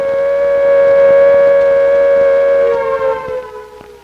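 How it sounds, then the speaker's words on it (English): A steady, loud wailing siren holds its pitch, then slides downward and fades toward the end. "The sirens, whose shrill cry of warning triggered a whole complex chain of events, are now still."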